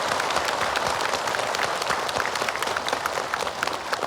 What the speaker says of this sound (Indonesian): Boleh tepuk tangan semangatnya.